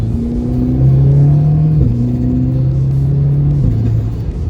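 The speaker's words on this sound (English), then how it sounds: "Let me know what you think about that compressor surge we're getting under load there." A VW Golf R with a turbo, driven hard under load, gives a loud, steady engine drone that drops in pitch twice as gears change, with a faint whoosh from the turbo.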